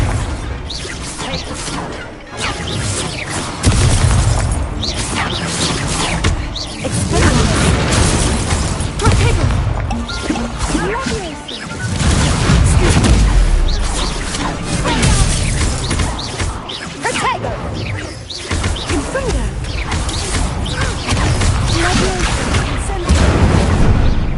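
Confringo blasting spells fired in the video game Hogwarts Legacy, with repeated loud booming explosions, crashes and whooshes packed densely across the whole stretch amid other game effects.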